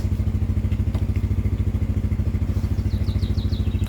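An ATV winch hauling debris out of the way gives off a loud, rhythmic mechanical clatter with a pulsing engine beat, repeating steadily and close by, with sharper squeaks near the end.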